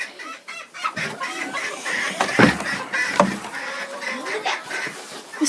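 A rooster and hens cluck in a small farm aviary in wintry Québec, with close, irregular clucks and squawks throughout and occasional louder calls.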